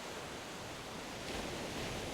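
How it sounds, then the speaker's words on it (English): Ocean waves spill over the shore in a steady, dense wash of surf that swells slightly louder toward the end, heard alone with no voices. "I glanced at the waves spilling over"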